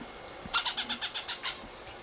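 Pet parrots call while being hand-fed through a feeding tube indoors: a close burst of about eight rapid, evenly spaced squawks lasting roughly a second over quiet room noise.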